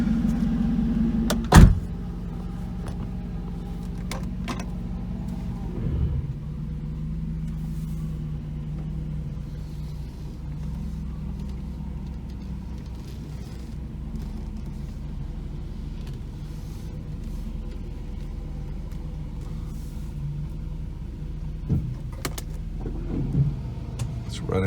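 A 1991 Mercedes 500SL V8 with its muffler deleted idles steadily, a low even rumble held for the whole stretch, with a sharp click near the start and a few small knocks near the end.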